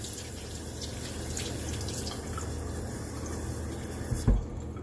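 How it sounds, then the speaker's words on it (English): Green onions are rinsed under a running kitchen tap, the water hissing softly and continuously at close range, with a brief louder splash near the end. "What I'm going to do now is I'm going to rinse off these green onions."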